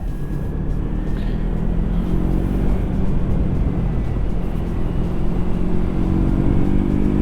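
A 2025 Yamaha MT-03 motorcycle idles and revs steadily with a continuous, buzzy exhaust drone, loud and close, with no talking over it.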